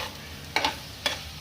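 Poha being stirred into a hot tempering in a pan, two short scraping stirs over a soft, steady sizzle, close and quiet with no talking.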